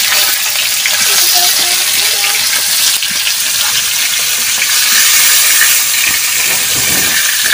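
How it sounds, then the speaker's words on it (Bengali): Fish fries loudly in a hot pan with a dense, constant sizzle and hiss, occasional stirring clinks and bubbling spikes, close up and uninterrupted. "আমার নানুর মাছ ভাজি করে দিলাম।"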